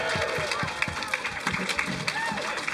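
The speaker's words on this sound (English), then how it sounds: "That's barely applause." Sparse, scattered clapping from a live podcast audience with Twitch viewers watching, a thin smattering of hand claps under crowd murmur and chatter, close and moderately loud across the short stretch.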